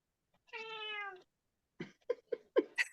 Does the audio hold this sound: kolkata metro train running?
no